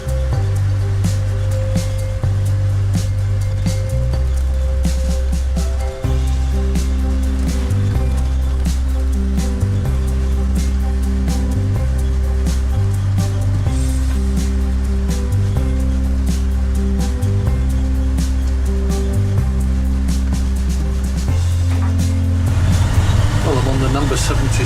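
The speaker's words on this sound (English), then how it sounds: "now I'm on my way to Colchester, front seat on a double-decker no less" A double-decker bus on the fast route between Clacton and Colchester heard from the front seat upstairs: a steady engine drone with shifting gear tones and rattles throughout, rising to louder road rumble near the end.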